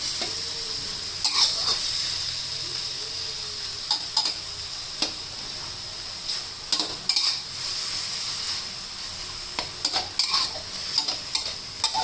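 Pork and sweet peppers being stir-fried in a pan, a steady loud sizzle with repeated scraping and tapping of a spatula against the metal, close up and without talk.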